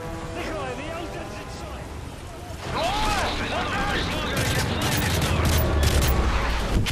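Rapid bursts of gunfire and explosions in Call of Duty: Modern Warfare 3, dense and continuous, growing louder after a moment, with music and effects layered underneath.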